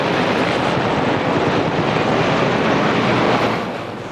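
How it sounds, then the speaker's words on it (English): US Army Black Hawk and Cobra helicopters fly past in a steady, loud roar of rotors and engines that holds for several seconds before easing slightly at the end. "The United States Army with Black Hawk and Cobra helicopters."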